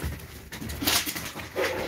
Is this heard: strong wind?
no